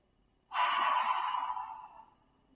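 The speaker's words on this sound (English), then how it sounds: "Take a big breath." A single deep breath drawn in during a restorative yoga session, close and clear. It starts abruptly, holds steady for about a second and a half, then fades out slowly. No one speaks.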